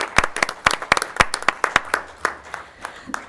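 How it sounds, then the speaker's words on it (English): Sparse applause at a city council meeting, a small group clapping unevenly with distinct close hand claps that thin out and fade over a few seconds. "Let's give them a round of applause for that."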